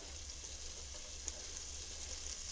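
The white parts of green onion sizzle in a pan over medium heat, where bacon Alfredo pasta is being made. The hiss is soft and steady, with a faint crackle or two and no talking.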